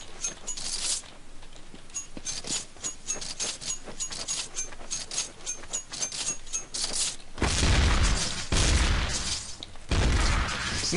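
Bursts of gunfire in Counter-Strike: Source, with sharp clustered shots scattered throughout and a denser, louder stretch of heavy firing toward the end.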